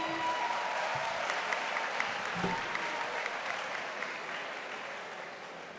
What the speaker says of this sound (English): A round of applause for Olubumi.